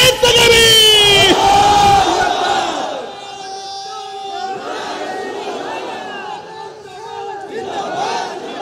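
A large crowd at an outdoor Islamic religious gathering roars a takbir response in unison, a loud swelling chant that fades into lingering voices and scattered shouts.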